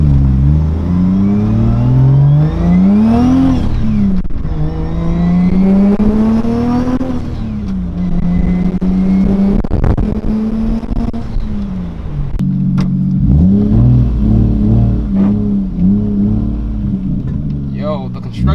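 A Lexus IS300 fitted with a 1JZGTE engine pulls hard through several rising gears on a city street, each climbing engine note falling back at the shift. The sound is loud and close, with people talking over it.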